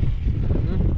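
Wind gusting across a microphone at an outdoor family picnic where food is cooked in a kazan, a steady low rumbling buffet that fills the whole second with no break.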